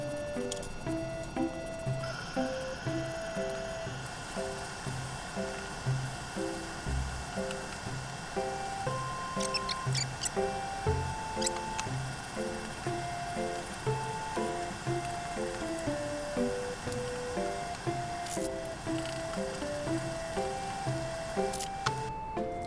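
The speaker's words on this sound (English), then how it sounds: "but first, we sand." Repetitive rhythmic scraping of sanding on a wooden computer desk, steady back-and-forth strokes at close range with a few sharp knocks, continuing for a long stretch without talk.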